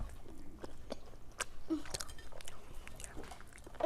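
Close, crisp crunching and biting on corn-flake-crusted chicken fingers, with a run of irregular chews and small crackles over a quiet room and no talking.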